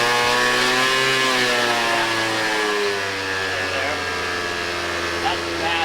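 A Honda Dio scooter with a worn CVT and heavy rollers revs with a sustained buzzing engine drone, holding a steady pitch with slight wavering throughout.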